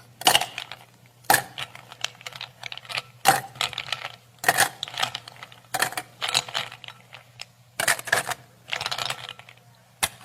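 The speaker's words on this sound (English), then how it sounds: "now I would like you to fill that glass with ice cubes" Ice cubes drop into a glass in separate clattering bursts, several sharp clinks spaced a second or so apart, close and alone.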